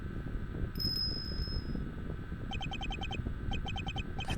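Bell sounds from the game Ace Attorney Investigations: one sustained high chime rings early, then two bursts of rapid repeated dings follow over a low constant background hum.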